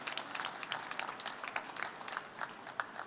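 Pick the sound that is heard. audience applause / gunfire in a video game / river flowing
audience applause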